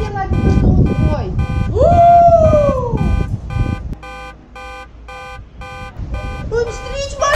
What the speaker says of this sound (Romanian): s-a auzit alarma de la mașină